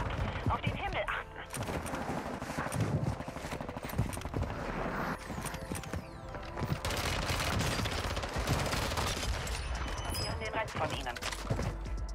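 An MP57 fires in rapid bursts during a fast online shooter match on the Vondel map, with further gunfire cracking around it amid game noise, and a player's voice talking now and then.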